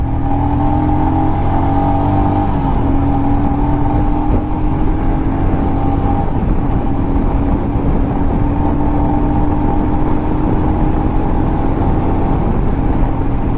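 A Royal Enfield Himalayan motorcycle engine drones loudly and steadily on an off-road forest ride toward Gowri Shankara Kona, its pitch climbing slightly as it accelerates through the gears, with no talk over it.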